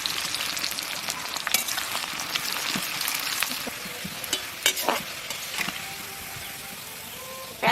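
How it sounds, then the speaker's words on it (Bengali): Onions fry in hot mustard oil with a continuous close crackling sizzle, punctuated by several sharp scraping and stirring knocks of a spoon against the pan. "সরষের তেল দিয়ে পেঁয়াজটা ভাজে নেব।"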